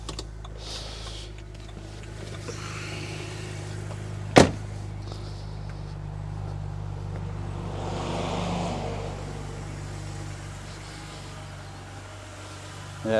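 A BMW engine idling steadily as a low, even hum through the whole stretch, with one sharp click partway through and quiet handling noises around it.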